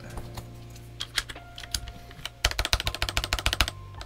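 Typing on a NuPhy Air96, a low-profile 96% mechanical keyboard: scattered keystrokes at first, then a fast, steady run of crisp clicky-thocky key presses, close and clear with no talk.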